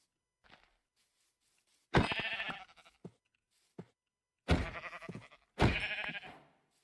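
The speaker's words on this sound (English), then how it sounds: "Okay, there's more sheep." Sheep in the Minecraft video game bleat in three separate long, wavering calls, fairly loud and close, with a few soft clicks and footstep-like taps between them and no talk.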